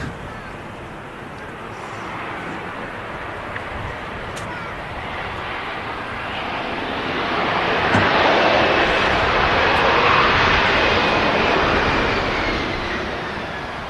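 A large airliner with huge winglets comes in on a long landing at Manchester Airport, its engine roar broad and steady, swelling louder toward the middle as it passes nearer, with faint talk underneath.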